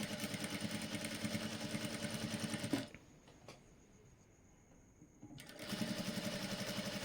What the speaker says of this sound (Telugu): దాని పక్క నుండి ఇలా స్టిచ్ అనేది వేసుకుంటూ వచ్చేసేయండి లాస్ట్ వరకు